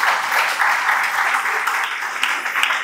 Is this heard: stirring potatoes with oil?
no